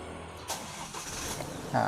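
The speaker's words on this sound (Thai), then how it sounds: "เดี๋ยวสตาร์ทตำแหน่งเกียร์พีให้" An automatic-transmission car engine cranking and catching while in park, a short starter whir followed by a brief burst as it fires, heard close up beside someone speaking.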